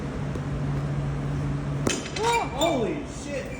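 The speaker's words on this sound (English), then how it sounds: "When glass changes temperature too quickly, it breaks" A cold blown-glass bell jar cracks from a sudden temperature change, giving one sharp snap followed by ringing, bell-like glassy tones that sweep and fade over a couple of seconds after a steady low hum.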